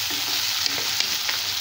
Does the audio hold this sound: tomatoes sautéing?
yes